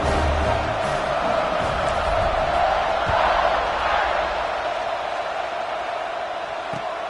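A football stadium crowd roars before kickoff, a loud, dense, sustained wash of cheering that stays steady from start to finish.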